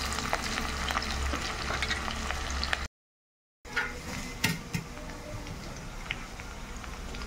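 Onion frying in a pan for an Assamese chicken dish gives a steady, moderately loud sizzle with occasional stirring scrapes. A brief dropout breaks it, then it resumes.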